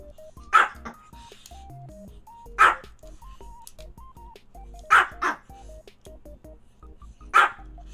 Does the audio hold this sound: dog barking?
yes